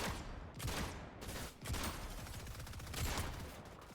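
Dense, continuous gunfire from the Fortnite battle royale video game, with bursts of rapid shots layered over one another and no speech, loud and sustained for the whole stretch.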